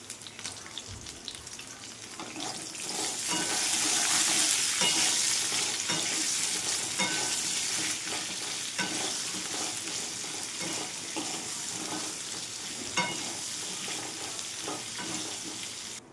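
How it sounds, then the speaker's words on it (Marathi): Okra frying in hot oil with salt: a loud, steady sizzle and crackle with occasional scraping stir sounds, continuous and close. "तेल पण व्यवस्थित तापलेलं आहे भेंडी टाकणार"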